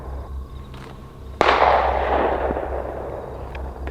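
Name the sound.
pistol gunshot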